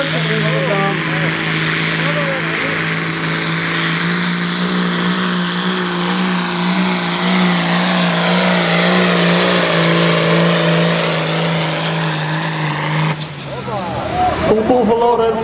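A 3.6-ton Prostock pulling tractor at a Zelhem tractor pull roars loud and steady, its engine revs climbing over several seconds before a sudden drop and a burst of crowd noise and commentary near the end.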